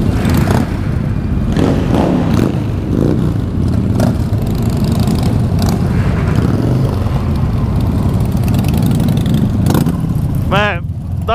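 A car with a loud aftermarket exhaust revs and rumbles continuously at close range with harsh, uneven bursts, while people talk over the engine noise.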